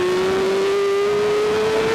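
A superbike engine screams at high revs under open throttle during a pro superbike race at Miller, a loud steady rising tone close by with no talk.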